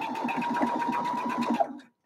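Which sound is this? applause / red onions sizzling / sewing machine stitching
sewing machine stitching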